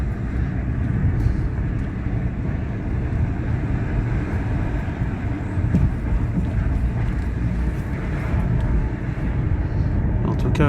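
A BMW 530i E60 with the M54B30 straight-six, freshly repaired after top-end, Vanos and valve work, rolls along on a road test at low revs, giving a steady in-car rumble and road noise with no break.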